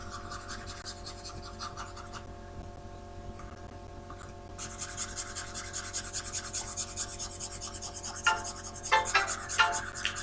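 Writing being rubbed off a classroom board, a close, steady scratchy rasp of repeated wiping strokes that grows louder and more vigorous toward the end, with no talking.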